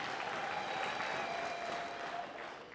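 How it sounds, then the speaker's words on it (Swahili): An audience applauding at a community development gathering, a dense, steady wash of many hands clapping nearby that tapers slightly at the end. "tujipigie makofi"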